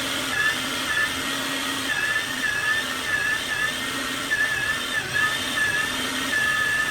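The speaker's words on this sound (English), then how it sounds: "let me speed this process up on this grinding of this meat" An electric meat grinder works through ground meat for a burger recipe, a steady continuous motor whine with a faint high tone that wavers on and off throughout, fairly loud and close, with no talking.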